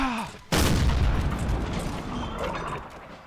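A sudden loud artillery or cannon boom in Napoleon Total War, followed by a long rolling, crackling tail of battle noise that slowly fades.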